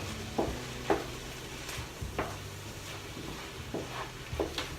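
Seafood risotto rice cooking over high heat in a pan, with a low steady sizzle and bubbling broken by intermittent soft scraping stirs and clinks, close and fairly quiet.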